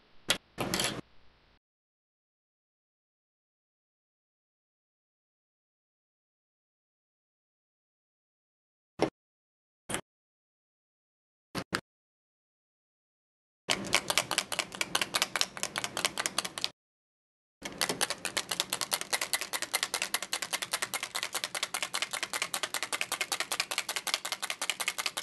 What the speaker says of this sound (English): you can add some steel ball bearings to the bottle and shake really vigorously for a few minutes